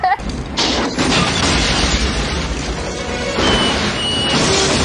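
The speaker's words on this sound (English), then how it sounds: "I like that every one of these explosive devices make the exact same massive explosion." A massive explosion from the film Batman Returns opens with a sharp blast, then rolls into a sustained, loud roar of crashing debris and rumble that carries through to the end, with no talk.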